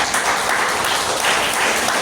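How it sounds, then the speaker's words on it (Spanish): A church congregation applauds in praise of Jesus Christ during a Spanish-language service, a dense, loud, sustained clapping from many people with no pause. "¿Cuánto dan un aplauso a Jesucristo?"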